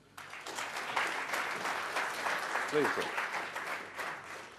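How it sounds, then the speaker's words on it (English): Audience applause greets Mr. Nandan Nilekani as he arrives for a keynote at an Indian Auto LPG Coalition event, a steady dense clapping filling the hall with a brief spoken request heard over it. "A big round of applause."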